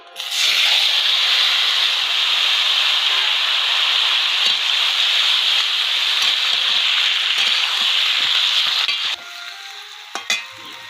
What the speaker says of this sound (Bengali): এখন টমেটো ছেড়ে দিচ্ছি।